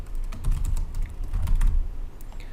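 Quick, steady keystrokes on a computer keyboard while Excel VBA code is written, the soft clatter continuing evenly throughout at close range.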